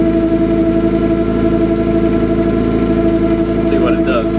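A car engine holds a steady 1,500 RPM while warming up, a loud, constant droning hum with no breaks.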